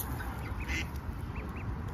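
A small duckling quacks in short, repeated peeps and quacks close by, amid other birds during a rescue of a goose and a herring gull chick, with steady background noise throughout.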